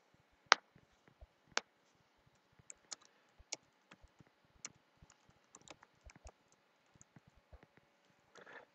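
Quiet, scattered keystrokes on a computer keyboard as a message is typed into Roblox chat, with irregular clicks and a short burst near the end, no talking.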